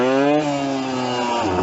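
An old Yamaha enduro motorcycle, back running after twenty years of sitting, revs loudly at a fast idle, its engine note holding and then dropping as it shifts through the gears, close and alone.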